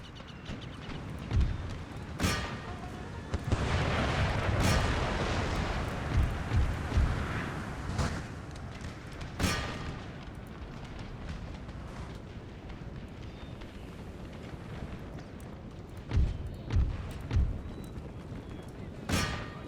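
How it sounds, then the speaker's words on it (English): Cannon artillery fire on a battlefield in Empire: Total War, the Austrian army's assault on Berlin, sounding as repeated heavy booms spaced irregularly over a steady rumble of battle noise, a few closer blasts standing out loud. "Get our stationary cannon to keep hitting these guys in the center."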